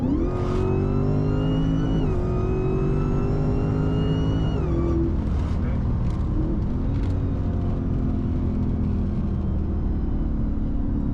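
Cammed Dodge Hellcat Charger engine revving hard in close, continuous rising sweeps broken by quick gear shifts, loud and steady throughout with no voices over it.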